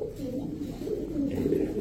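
A healthy Cobra Lal Patti pigeon hen, kept among racer and highflyer pigeons, coos steadily and close by in a low, continuous rolling murmur, with no talking.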